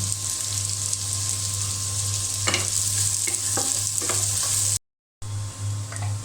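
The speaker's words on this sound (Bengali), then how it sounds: "এখন আমি পেঁয়াজের সঙ্গে ভালো করে একটু ভেজে নেব" Sliced onions frying in oil with ginger paste and cumin paste for a pangas fish curry, a steady close sizzle with a low hum and a run of spatula scrapes and taps in the middle.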